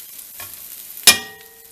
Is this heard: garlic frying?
yes